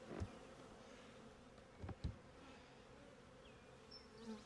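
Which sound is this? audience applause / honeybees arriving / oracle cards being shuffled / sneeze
honeybees arriving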